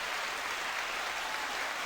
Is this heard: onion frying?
no